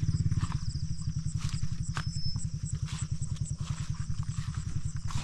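Jun's motorcycle runs close by with a steady, rhythmic engine putter at an even pace throughout, with no voices over it.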